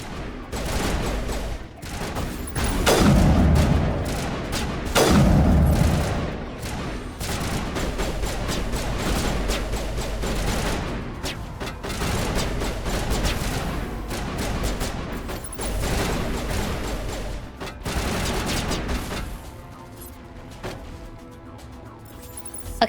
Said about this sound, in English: You're still shooting for some reason.